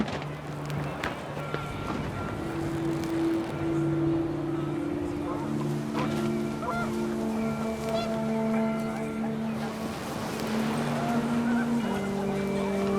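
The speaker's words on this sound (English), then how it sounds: "The wind picked up, and panicked geese appeared and quickly went." Panicked geese honking in the video game What Remains of Edith Finch, a flurry of sustained honks and calls layered over gusting wind and a steady background drone, with game music and ambience filling the scene.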